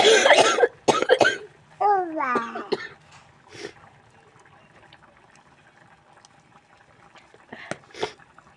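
A person coughs hard a few times up close, followed by some speech and a couple of quieter coughs later on; the cougher has a decayed, aching molar.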